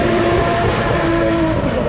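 A Dallara race car with a turbocharged 2.3-litre Ford EcoBoost engine on a hill climb course, a loud, close, sustained engine roar with a shifting whining tone.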